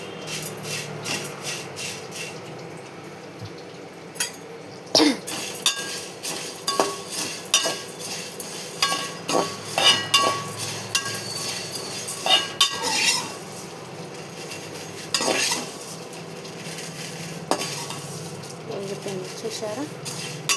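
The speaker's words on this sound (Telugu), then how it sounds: "ఇలా మురమురగా వేయించుకోవాలి." Food being stirred and dry-roasted in a pan until crisp, with repeated scraping, rubbing and light clinks of a utensil against the pan, close and fairly loud, while someone talks over most of it.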